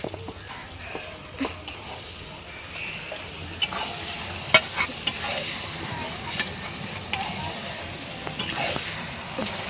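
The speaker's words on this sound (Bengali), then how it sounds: "আর এবার মা চলে এসেছে, মাংসগুলো কড়ার মধ্যে দিয়ে দিচ্ছে" Chicken pieces fry and get stirred in a hot wok in a village kitchen: a steady close sizzle with scattered clinks and scrapes from the stirring.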